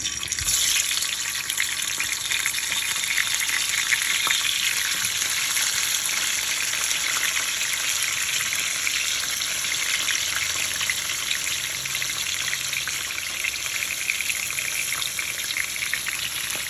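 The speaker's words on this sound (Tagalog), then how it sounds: "Tapos, magpiprito ako ng galunggong." Galunggong fish frying in a pan, a steady broadband sizzle and spatter running unbroken and fairly loud throughout, with a faint clatter near the start and no talking.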